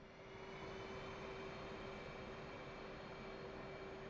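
F/A-18 jet engines at takeoff power in DCS World, a steady loud broadband roar with a constant whine, sustained without pause and no speech.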